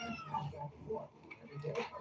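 A cat meowing, a couple of short meows at moderate volume over faint background noise, with some voice-like sound mixed in.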